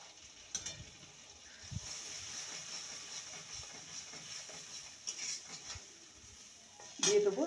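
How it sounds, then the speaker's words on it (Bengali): Spiny gourd curry is stirred in a pan, giving a soft steady sizzle and hiss with faint scraping strokes at intervals, quiet overall, and a voice comes in briefly near the end. "ভালো করে নেড়ে নেব।"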